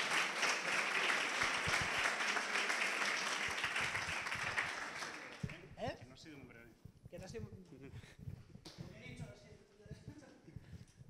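Audience applause at a PechaKucha Night science event in Salamanca: dense, steady clapping for about five seconds, then thinning out under the first words of a speaker.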